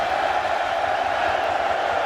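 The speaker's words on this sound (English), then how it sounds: "Here comes the crowd noise" Steady roar of a large crowd at a Kentucky college football stadium during a Missouri at Kentucky game, a dense wash of cheering noise throughout with no distinct voices standing out.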